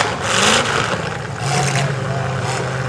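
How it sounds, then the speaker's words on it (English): Demolition derby car engines rev and idle at close range, a loud rumbling roar that swells and eases across the clip, with crowd noise and voices mixed in. "Listen to those engines."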